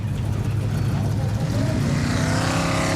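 A specially built off-road rally car races a course at a 2006 event in Norway. Its engine roars loudly and continuously, rising in pitch as it accelerates, with a commentator talking over it.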